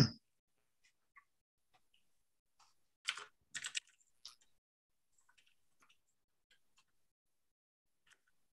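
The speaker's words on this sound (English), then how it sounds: "Y'all hearing me type away on my keyboard as I hurriedly put some more slides together?" Sparse keystrokes on a computer keyboard click out in a quiet room, with a couple of quick bursts of typing around the middle and scattered single taps elsewhere.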